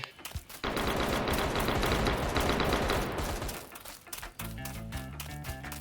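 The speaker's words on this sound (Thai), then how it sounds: "ยูได้ยินเสียงปืนเลยแม่งใจแม่งสั่นวะ ยิงกันเดือดมาก" Sustained bursts of rapid automatic gunfire in a Rust map in Roblox, loud and dense, thinning out toward the end into scattered shots and clinks.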